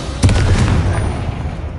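A Confringo fire spell from Hogwarts Legacy bursts with a single loud, close blast and boom, followed by a rumbling, crackling tail fading under ambient game noise.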